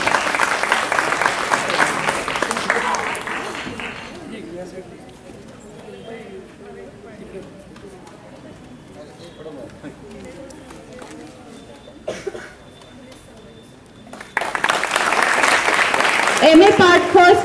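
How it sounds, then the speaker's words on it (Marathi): An audience at a marathon race prize ceremony breaks into loud, dense clapping, then a voice speaks over a quieter stretch before a second strong round of applause swells up. "स्नेहासाठी टाळ्या."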